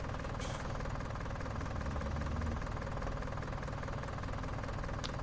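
Massey Ferguson MF 711 skid steer engine running in Farming Simulator 19, a steady, loud, continuous low mechanical drone with a knocking texture and no talk.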